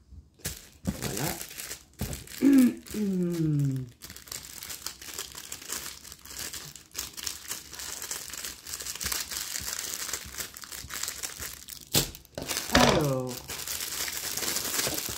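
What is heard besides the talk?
unwrapping plastic-packed accessories from a Temu package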